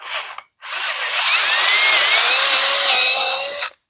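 A power drill bores into the corner of a wooden table, with a short whir, a brief pause, then a steady, close grinding drill run of about three seconds that stops abruptly.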